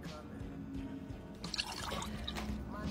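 Water poured from a container spills and splashes in a brief burst of liquid pouring and dripping, moderately close, with faint background sound around it.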